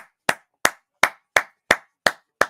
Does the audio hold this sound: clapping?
yes